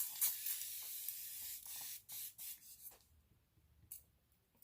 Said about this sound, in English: I'm going to spray my face with some Evian facial spray.